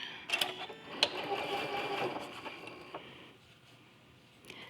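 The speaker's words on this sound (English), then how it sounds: "I'm gonna join these corners again and just start sewing at 1/4 inch" A sewing machine stitches pieced quilt corners at a quarter-inch seam, a steady close rapid whirring patter running for about two seconds before slowing and stopping, with light handling clicks around it.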